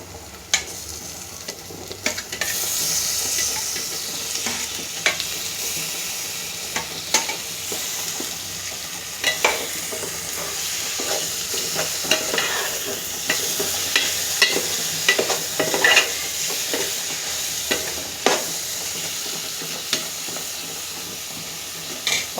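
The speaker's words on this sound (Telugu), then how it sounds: "ఇందులో చేప ముక్కలు కూడా వేస్తున్నాను." Fish pieces go into a simmering curry of native gorakalu, with a steady, fairly loud sizzle and hiss running throughout, punctuated by scattered clicks and scrapes of stirring.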